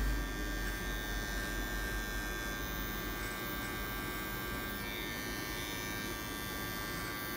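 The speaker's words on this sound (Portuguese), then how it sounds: "eu já vou pegar uma maquininha de acabamento, tá? MacMixes" MacMixes electric hair trimmer cutting a fade, giving a faint, steady close buzzing hum that continues without pause.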